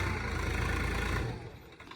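Farm tractor engine running steadily close by with a low rumbling drone, then the revs drop and it fades toward idle near the end.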